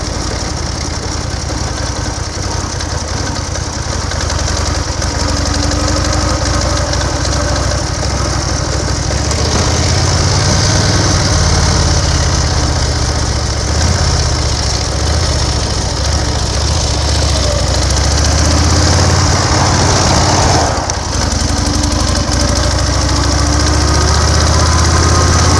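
A 1930 BSA 770 cc V-twin motorcycle engine runs loud and close in a continuous, rough mechanical drone with little change in pitch while riding on country roads in Wales. No one talks.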